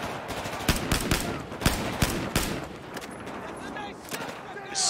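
Rapid bursts of automatic gunfire from the video game Battlefield 4, with sharp repeated shots in clustered volleys over a dense battlefield din, fairly loud and close.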